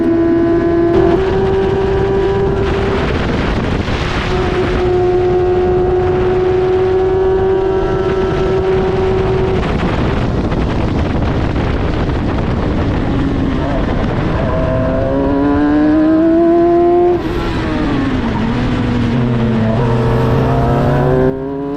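An F1000 race car at Silverstone runs off track after oversteer at a low-speed corner. Its engine drones loud and close in the cockpit, holding steady, then rising in pitch as the throttle opens and revs build, with a voice speaking over it.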